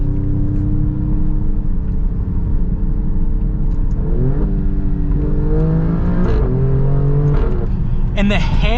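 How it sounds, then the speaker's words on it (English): Alfa Romeo Stelvio Quadrifoglio SUV, the rare NRING Edition, with a V6 engine revving hard through rising gear pulls, loud and close, with an excited voice talking over the engine roar. "oh my goodness, this is the best sounding V6 on the planet. That is such a beautiful sound."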